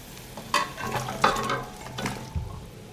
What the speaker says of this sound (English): The marinade has boiled and I put the pepper in the boiled marinade.